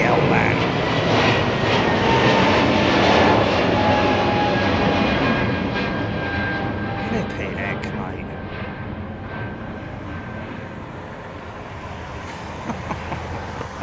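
Lufthansa airliner departing the runway at Heathrow Airport, a loud, sustained broadband jet engine roar that slowly fades over several seconds, with people talking over it.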